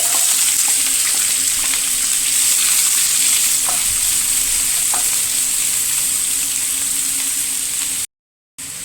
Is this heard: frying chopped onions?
yes